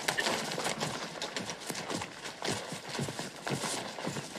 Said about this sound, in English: you reckon that's Billy the Kid's horse, sure enough